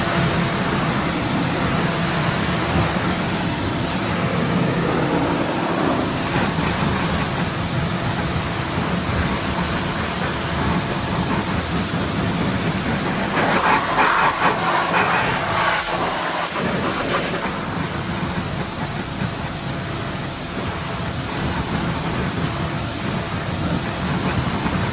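Water spray hissing steadily as car wheels and tires are rinsed after a suds wash, a close, continuous broadband rush that swells briefly midway and runs throughout without talk.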